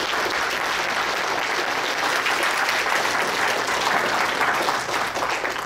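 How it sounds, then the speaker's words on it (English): Steady, full applause from a seated audience at an amateur radio conference talk. It is loud and continuous from start to finish, with no voices heard over it. "Big round of applause."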